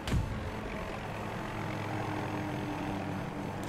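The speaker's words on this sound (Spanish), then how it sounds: "Aquí hay un helicóptero." A helicopter in the shooter game Battlefield 2042 produces a steady, loud rotor and engine drone that holds constant throughout, opening with a brief sharp burst.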